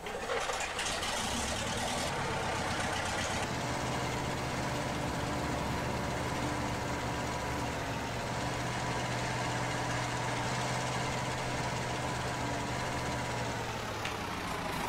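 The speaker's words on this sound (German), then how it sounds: "Hier werden wir uns jetzt auch nochmal einen Motorsound gönnen und auch mal eine Runde drehen." A wheel loader's diesel engine idles steadily in Farming Simulator 19, a continuous even rumble that holds for the whole stretch after a brief start-up change, alone without talk.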